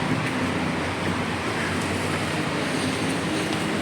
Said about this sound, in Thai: อันนี้ก็เป็น บรรยากาศ อยู่ทางขึ้น รถไฟฟ้า BTS ที่สถานีมอสซิตเนาะพี่น้อง